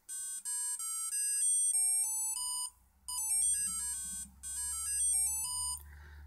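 Homemade penny organ driven by an Arduino sketch plays bright electronic beeping tones in quick melodic runs, stepping up and down in pitch with brief gaps between phrases, loud and clear over a low background hum.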